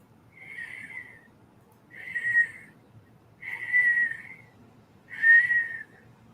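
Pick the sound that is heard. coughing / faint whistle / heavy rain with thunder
faint whistle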